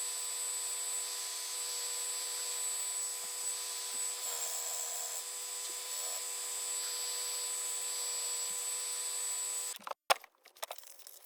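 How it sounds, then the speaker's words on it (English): A belt sander works on small wooden Santa figures, giving a steady, even whine for about ten seconds, then cutting off with a few clunks and knocks as it stops. "just sanding away every other face I can with this belt sander."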